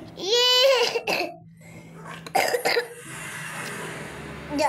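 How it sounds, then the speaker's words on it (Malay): A child coughs a few times up close, harsh bursts at the start followed by scattered throat sounds, with faint background noise and brief voice-like sounds between. "Sekejap, saya terbatuk."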